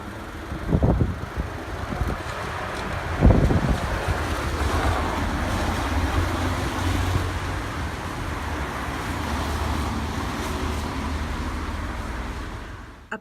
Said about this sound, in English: Apologies for the traffic noise in some of those video clips.